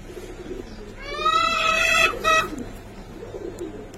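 A female silver Giribaz pigeon gives a short, mid-distance cooing call, a harmonic, wavering burst in the middle of the clip, with low background noise around it.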